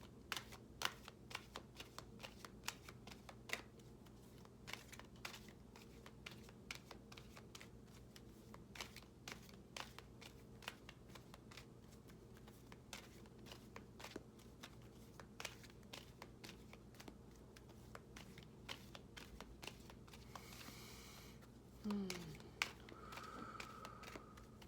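An Archangel Animal Oracle card deck is shuffled over and over, a quiet steady run of crisp riffling taps, close and alone, with a brief soft rustle near the end.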